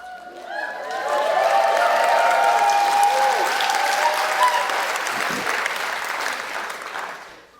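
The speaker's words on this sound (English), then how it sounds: "You are clapping as if you could reach up and touch us." Audience applause from a large live crowd, building quickly and holding as steady, loud clapping for several seconds before gradually thinning out toward the end.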